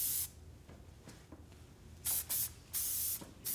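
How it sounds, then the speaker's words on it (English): Hairspray misted onto a finished faux bob hairstyle, heard as four short, close hissing bursts: one at the start, then a quick pair and a longer final spray, with quiet gaps between. "now I'm just gonna finish with a little spray"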